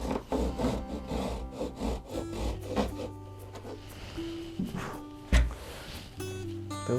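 A saw cuts a wooden block at an angle during a guitar build, giving close, rasping back-and-forth strokes with a few louder knocks.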